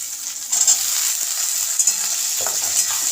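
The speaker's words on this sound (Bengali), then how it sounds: "জাস্ট একটু ফ্রাই করব।" Diced capsicum stir-fried in a hot pan for chilli chicken, a loud, steady sizzle with brief scraping stirs, close up and without speech.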